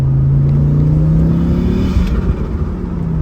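A turbocharged Audi S2 engine revs loudly and close, a deep steady drone climbing slightly in pitch before its note roughens and settles, filling the moment alone.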